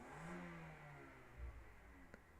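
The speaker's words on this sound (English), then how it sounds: "Got a guy outside my window just kind of revving his car really loud" A car engine revs outside a window, a low muffled roar heard through the glass that rises and then drops away, faint and indoors-sounding, with a small click near the end.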